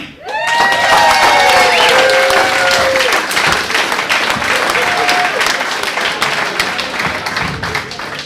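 Loud audience applause and cheering fill a small playhouse at a student stand-up comedy show as a comic takes the stage, with some whooping and a brief musical tone early on, sustained throughout.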